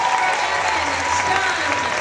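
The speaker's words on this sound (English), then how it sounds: "Give a round of applause to that foot. And keep clapping" Steady, dense audience applause fills the room from start to finish, even and sustained with no pauses.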